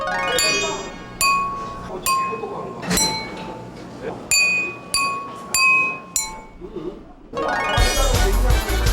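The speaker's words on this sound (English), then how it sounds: "The rhythmic melodies produced from the glass enhance the taste of wine." Several bright, ringing clinks of wine glasses, spaced irregularly, each leaving a shimmering resonance, followed by a louder burst of jingling at the end.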